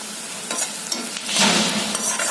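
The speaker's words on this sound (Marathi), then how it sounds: "काही कांदा मसाले घालते" Onion and spices frying in a pan for a spicy mixed vegetable curry, a crackling sizzle with stirring scrapes that swells to a louder hiss midway, close, no voices.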